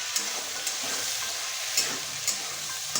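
Radish and potato fry lightly in hot oil for a Bengali tangra fish curry, giving a steady close sizzle broken by a few soft stirring clicks, with no talk.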